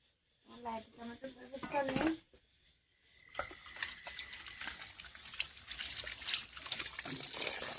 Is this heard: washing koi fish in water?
yes